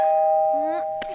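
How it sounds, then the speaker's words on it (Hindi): A two-tone doorbell chimes once, a clear ding-dong with a sustained ringing tone that fades away, followed by a brief knock-like thump near the end. "दरवाजे की घंटी बजी है।"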